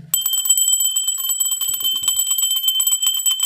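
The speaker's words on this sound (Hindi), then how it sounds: "सबसे पहले तो हम कांसे की घंटी से एक वाइब्रेशन पैदा करेंगे" A bronze bell rung during a Hindu ritual for preparing a Lakshmi Kuber potli, sounding as a loud, sustained, bright shimmering ring that holds steady for several seconds, with faint low handling noises partway through.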